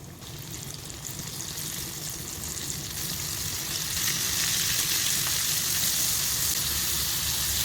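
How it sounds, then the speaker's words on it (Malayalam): Chicken popcorn pieces drop into hot oil and fry with a steady, dense sizzle that builds slightly louder midway and keeps going without pause, close and alone with no talking. "ഓയിൽ നല്ലോണം ചൂടായി വന്നിട്ടുണ്ട് കേട്ടോ ഇനി ഇത് നമുക്ക് ഓരോന്നോരോന്ന് ഇതിലിട്ട് കൊടുക്കേ"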